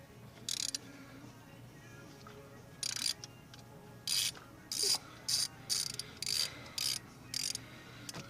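A T45 extended socket on a ratchet loosens an injector hold-down bolt on a 6.0 Powerstroke diesel engine, giving bursts of rapid ratchet clicking, some long, some short, against quiet shop background.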